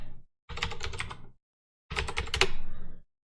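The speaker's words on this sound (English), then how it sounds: "if I open command line here, I type in ping" Two quick bursts of typing on a computer keyboard, crisp rapid key clicks close to the microphone separated by a short silence, with no one talking.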